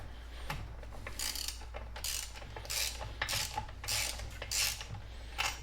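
A ratchet fitted with a 5/8 inch deep socket loosens the spark plug on a Troy-Bilt TB22 trimmer, sounding as a series of sharp, close clicking bursts in an uneven rhythm, with no speech.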